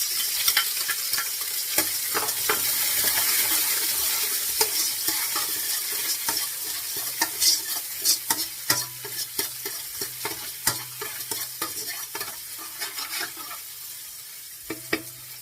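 Garlic fries in a pan for dinuguan, a continuous close sizzle broken by frequent scraping and clattering stirring strokes that grow more rhythmic toward the end.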